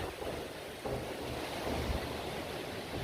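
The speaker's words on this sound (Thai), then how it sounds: "ฝนตกลมแรงมากนะคะ" Steady, loud rushing noise of strong wind and rain, a continuous broadband roar with no voices.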